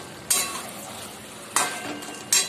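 Chili chicken stir-fried in a pan: soft continuous sizzle broken by three sharp spatula scrapes and clinks against the metal, near and fairly quiet, with no voices.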